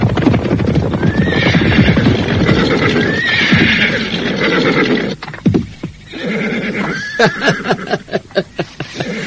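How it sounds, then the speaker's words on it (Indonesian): A horse neighs loudly and repeatedly, with long shrill whinnies close by, then snorts and stamps its hooves in uneven thuds toward the end. "Hei, kawan-kawan, ada seekor kuda di sini."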